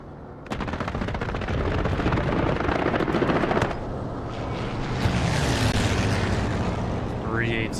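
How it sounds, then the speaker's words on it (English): An aircraft strafing run in Hell Let Loose brings a long run of rapid heavy gunfire, loud and close, that gives way to a rushing roar and rumbling impacts, with talk mixed in. "Just doing a strafing run."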